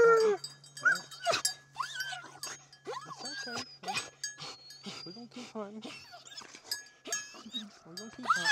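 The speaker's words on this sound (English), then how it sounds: "watch what happens whenever we try to hold these dogs back and they think they're missing out on the best part of the hunt" Tracking dogs held back on a deer hunt yelp, whine and bark excitedly in a rapid, overlapping outdoor chorus, with someone talking over the noise and faint jingling of collars.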